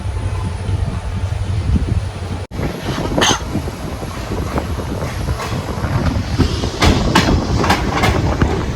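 A train rolls steadily along the Shoranur–Nilambur rail line near Angadipuram station, a continuous rumbling roar with rhythmic clickety-clack of wheels and sharp metallic knocks, loud and close throughout.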